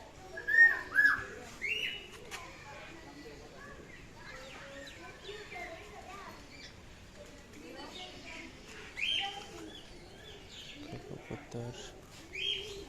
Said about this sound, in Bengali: লক্ষা কবুতর।